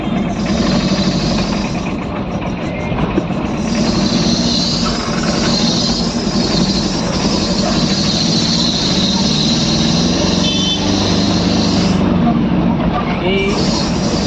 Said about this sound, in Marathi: आपला भाऊ गाडी चालवत आहे.